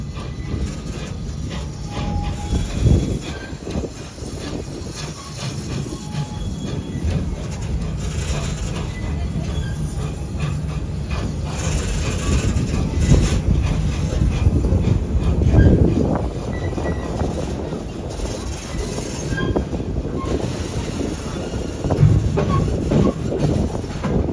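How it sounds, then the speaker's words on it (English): Family roller coaster at Busch Gardens rumbling and clattering along its track with added ride sound effects, a loud continuous roar with surges and rattles throughout, faint voices mixed in. "It is an audio roller coaster, so you'll have sound effects as you ride it."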